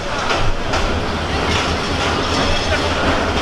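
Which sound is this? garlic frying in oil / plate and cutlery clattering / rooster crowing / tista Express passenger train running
tista Express passenger train running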